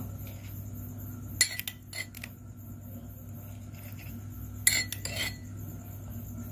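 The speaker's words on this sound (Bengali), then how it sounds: "এবার কাঠিটা দিয়ে এইভাবে একটু গুলে নেবো" Crushed chocolate biscuit with sugar and milk being stirred by a stick, giving a few short clinks and scrapes in two brief clusters over a low steady hum, close by and otherwise quiet.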